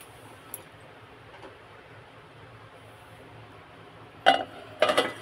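A lid is set over a pot of semolina batter for rava idli, giving two short metallic clatters near the end after a quiet stretch of low kitchen hum.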